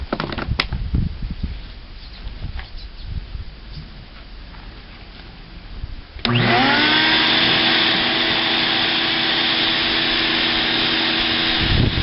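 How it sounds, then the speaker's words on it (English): An electric blower clamped onto an outlet kicks on loudly after a stretch of quieter handling noise, then roars steadily as it blows husks away from Kona coffee beans, a constant whine with strong motor tones. "It'll blow the husk away, but not the beans."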